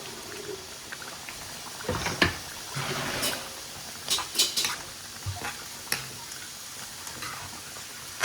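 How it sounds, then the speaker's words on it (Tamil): Ground coconut paste tipped from a bowl into a simmering ridge gourd and chickpea (channa) curry: close, wet plops and soft stirring broken by several sharp spoon clinks and scrapes against metal, with no voices. "இதில் நம்ம அரைச்சி வச்ச தேங்காய் ஊற்றிடலாம்"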